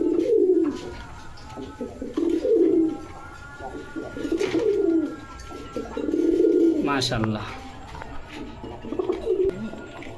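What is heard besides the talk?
Indian Bombay pigeons cooing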